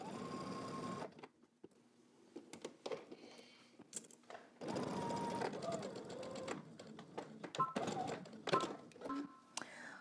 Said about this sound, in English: now we're going to stitch this together using 5/8 of an inch seam allowance